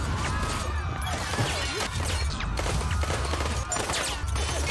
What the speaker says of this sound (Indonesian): Mereka pun baku tembak.